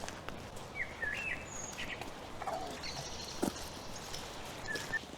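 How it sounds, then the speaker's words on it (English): Birdsong fills an ancient woodland in Sherwood Forest: several birds chirp and whistle in short phrases at moderate distance over a steady outdoor background, with no talking. "there's loads of birds around here"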